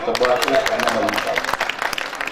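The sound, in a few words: audience applause at a mushaira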